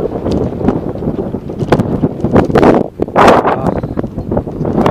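Strong wind buffets a camera microphone beside a lake, producing loud, continuous rumbling gusts with sharp blasts and crackling throughout, and no talk.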